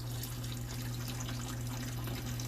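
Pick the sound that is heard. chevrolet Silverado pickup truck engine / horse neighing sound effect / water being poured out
water being poured out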